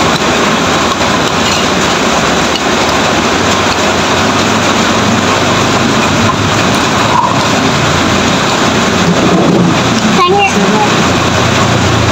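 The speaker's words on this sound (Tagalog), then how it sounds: "Ay grabe naman talaga ang ulan na ere. Walang katapusan ng ulan din sa ating samahay-hay." Heavy, steady rain pours without a break, a loud dense broadband wash filling the whole clip with no pauses.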